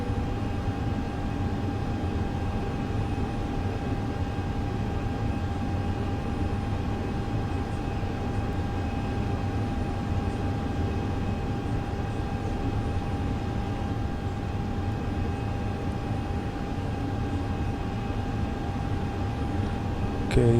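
Fenix A320 airliner engines at departure in Microsoft Flight Simulator 2020, a loud, steady, unbroken broadband roar with a constant tonal whine running throughout.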